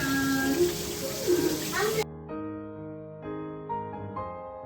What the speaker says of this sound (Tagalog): Maghugas muna ako bago ako magluto para may space.